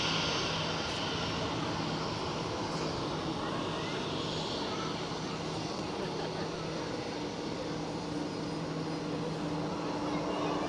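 An airliner passes over Zurich Airport with a continuous, even jet roar at moderate distance, holding steady across the whole stretch.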